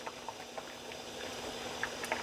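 A pot of water at a rolling boil with rinsed bulgur wheat stirred in, giving a steady, soft bubbling hiss with scattered small pops and no voices.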